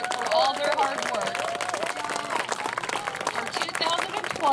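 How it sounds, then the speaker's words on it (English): A large audience at an outdoor I-69 Community Day event in southwest Indiana claps loudly and steadily, a dense, sustained round of applause lasting throughout, with scattered voices and cheers mixed into the crowd noise. "A large, loud round of applause to show your support for all their hard work"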